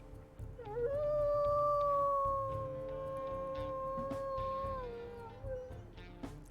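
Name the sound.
wolf pup howling in video game WolfQuest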